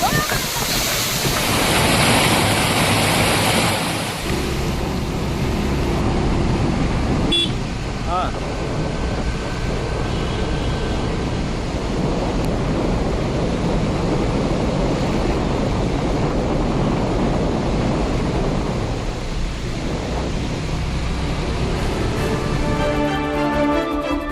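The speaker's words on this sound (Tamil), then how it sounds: "நாமக்கல் அருகே கொல்லிமலை ஆகாய கங்கை அருவியில் ஆர்ப்பரித்து கொட்டும் தண்ணீர்" Agaya Gangai waterfall in the Kolli Hills near Namakkal, swollen by heavy rain, gives a loud, continuous roar of crashing water with wind buffeting the microphone.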